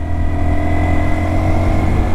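A 2024 Honda Dax 125 motorcycle engine hums steadily at mid revs as it accelerates after a downshift, close and loud, with a constant buzzy drone and no voices.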